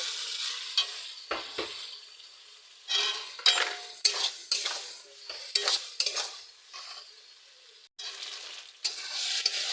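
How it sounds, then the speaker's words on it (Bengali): Fried pointed gourd and potatoes stirred in a pan with sugar and water, giving soft sizzling under repeated scraping strokes of a utensil against metal, steady and close, with no voices. "চিনি জল আর ভেজে রাখা পটল আলুগুলো দিয়ে পাঁচ মিনিট কষিয়ে নেব"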